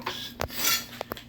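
Plastic coat hanger stirring a small batch of epoxy mix for a 1972 Honda Twinstar fuel tank repair, giving a short scraping, rasping scrape with a few brief clicks against the container, close and alone.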